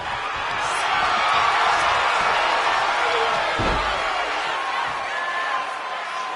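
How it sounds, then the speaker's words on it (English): A wrestling arena crowd in the video game WWE 2K25 roars in a broad, steady wash of cheering. A single heavy slam thuds partway through. "Taking a moment to get pumped off of this crowd's incredible energy"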